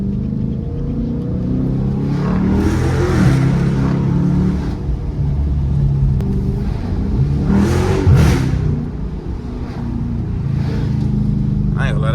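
A Chrysler 300S fitted with 5-inch Carven exhaust tips idles with a deep, close rumble and revs up in two swells, one around the third second and one around the eighth.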